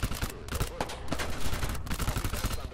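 Rapid enemy gunfire in the video game Thunder Tier One, a dense burst of close, loud shots and automatic fire rattling without pause.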